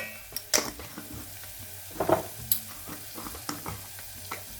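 A spoon scrapes and clinks around a pan of chicken tikka masala with turmeric and spices, intermittent knocks and stirring strokes over a faint background sizzle, close and without speech.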